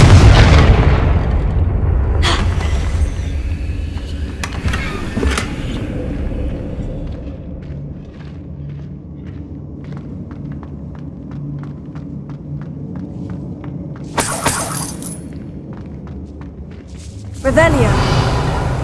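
Confringo blasting spells go off in Hogwarts Legacy as several sharp, booming explosions spaced across the stretch, each burst rising over a steady rumbling game backdrop.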